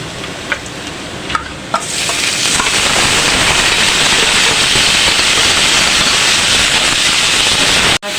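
Spice paste frying and being stirred with onions in a pan, with whole garam masala, for a fish kalia; a few light taps, then a loud, steady close sizzle runs throughout with stirring scrapes.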